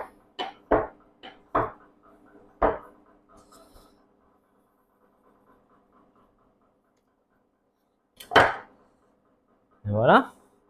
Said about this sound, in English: Then I'm just gonna cut some strips.